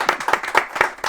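A live audience claps at the close of a book presentation for the novel 'Huéspedes', a short burst of close, uneven hand claps with no talking over it.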